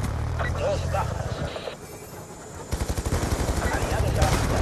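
Gunfire in the Call of Duty Black Ops II video game: rapid automatic bursts crackle loudly in rhythmic volleys, mixed with game effects and voiced in-game radio chatter in Spanish.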